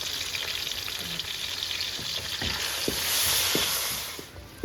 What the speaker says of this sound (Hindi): तो ये देखें हमारा ये जो मसाला है ये भुन गया है।